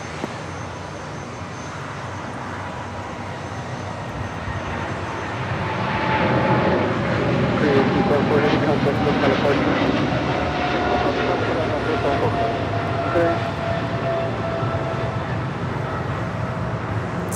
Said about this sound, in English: It's Flight 274 departing to Seoul on a 777 freighter.